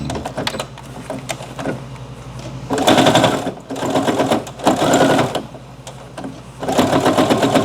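An industrial sewing machine runs topstitching at 0.2 mm along an apron panel, with loud, rapid mechanical whirring in several bursts broken by brief pauses, heard up close.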